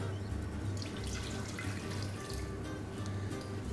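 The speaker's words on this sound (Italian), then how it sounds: "introduciamo l'acqua che ho pesato nella pentola." Weighed water poured from a container into a cooking pot while making choux pastry for profiteroles, a steady close splashing stream running without pause.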